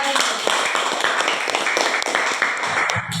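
Fourth-grade students in an Indonesian classroom clap together during a lesson on plant parts, giving a loud, close burst of quick, uneven claps that carries on for the whole moment.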